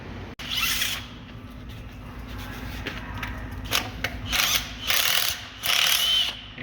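Ratchet tightening flywheel bolts on a turbo Honda Civic build, heard up close as a run of quick clicking bursts, several separate pulls in a row with brief pauses between them.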